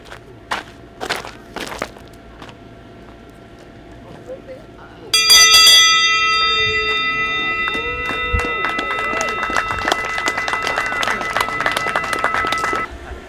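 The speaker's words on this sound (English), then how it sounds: "I rang the bell." At a backyard ultra running championship, a bell rings out loudly and keeps clanging for several seconds, its bright ringing mixed with footsteps and the voices of people talking nearby.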